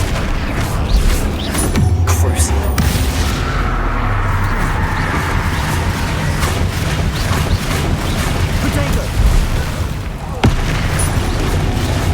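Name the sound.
Flipendo spell cast in Hogwarts Legacy video game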